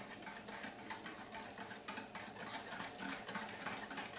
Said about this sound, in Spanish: mezclar el huevo, vamos a batirlo para mezclarlo con el azúcar